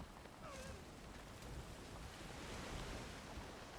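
Steady wash of waves and wind rushing past as a sailing boat crosses open water in the video game Valheim, a continuous, fairly loud surf texture with no talking.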